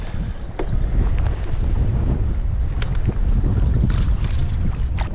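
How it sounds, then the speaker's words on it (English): Strong wind buffets the microphone in a continuous low roar, with gusting rumbles and faint splashing water throughout, while bass fishing outdoors. "It is getting so windy out here."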